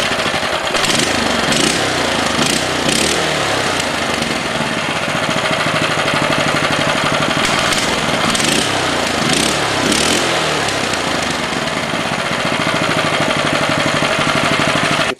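A 6.5hp clone go-kart engine with its governor removed and a return spring added on the throttle linkage runs loudly and steadily throughout, a rough continuous small-engine rattle with slight rhythmic surges and no talk.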